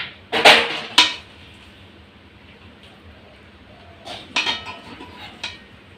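Hot coconut mixture for narkel naru (Bengali coconut sweets) scraped from a pan onto a banana leaf: two quick metallic scrapes near the start, a quiet pause, then a looser cluster of softer scraping and clinks, close and alone.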